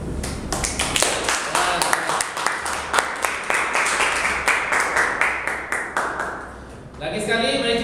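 Audience applauding a coach at a public-speaking club briefing, a crowd of claps with distinct individual hand strikes, fairly close, fading out near the end as a voice begins.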